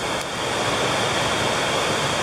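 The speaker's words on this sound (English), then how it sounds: "Here's the creek you have to cross." Creek at the Elkmont campsite in the Great Smoky Mountains, a rushing, broad wash of flowing water over rocks, loud and steady up close with no voices.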